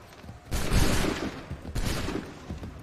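A musket volley is fired in the video game Assassin's Creed III, giving a loud, ragged burst of gunfire followed by a second rolling volley with echoing tails and no speech over it.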